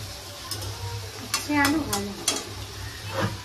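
Bitter gourd frying in a pan gives a low, steady sizzle with a few stirring clicks and scrapes, and a voice briefly murmurs over it.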